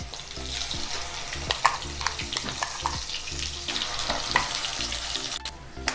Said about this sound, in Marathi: छान आपल्याला तेलात व्यवस्थित मिक्स करून घ्यायचा आहे हा मसाला. छान तेल सुटेपर्यंत हा आपल्याला परतून घ्यायचा आहे.